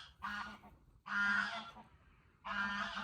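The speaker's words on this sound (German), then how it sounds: "die Gänse suchen dich" Geese in Ecuador honking loudly and close by, in three separate bursts of harsh, repeated calls with short pauses between them.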